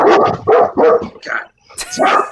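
A dog barks repeatedly in a quick series of loud, close yips and woofs during a heated talk show about an upcoming election, with a short pause before another burst.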